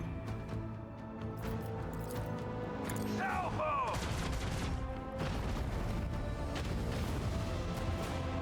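Starship macro cannon fire in Rogue Trader, a run of heavy booming blasts with crackling impacts that build into a dense, rumbling barrage, mixed with game effects and a brief voice in the middle.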